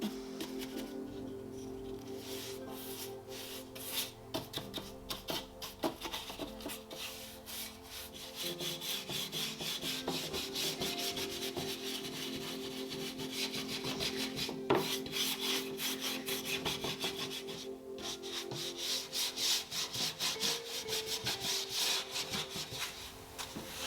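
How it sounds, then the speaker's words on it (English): Cloth rubs repeatedly across a waxed wooden furniture piece, a steady close scratchy wiping with rhythmic strokes and no speech. "I put the wax on and I've wiped it off"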